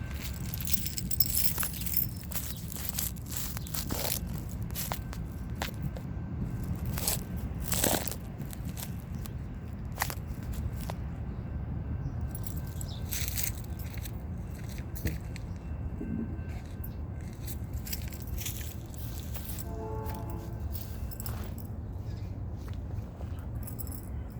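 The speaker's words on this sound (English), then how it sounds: "So I'll let you guys watch as I trim" Plants being trimmed in a garden, with a continuous rustle of leaves and branches and scattered crisp snips and clicks, close and fairly quiet against outdoor background noise.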